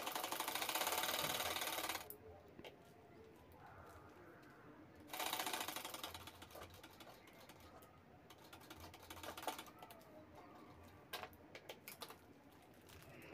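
A sewing machine stitching the sides of a handbag runs in two loud bursts, with quieter handling and tapping in between and a few short clicks afterward.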